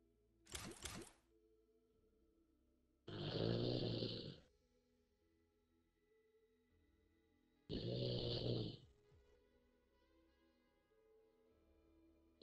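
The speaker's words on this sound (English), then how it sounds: "over here snoring, bro" A man snores in two long, loud rasping breaths a few seconds apart, close to the microphone, with a brief sharp noise before the first and quiet between them.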